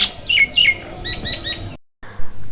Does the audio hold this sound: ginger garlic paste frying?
no